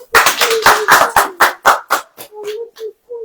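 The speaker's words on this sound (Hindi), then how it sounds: "ताली बजाइए।" Congregation clapping hands at a church sermon, a run of loud, sharp bursts of applause that thin out into scattered claps over a few seconds.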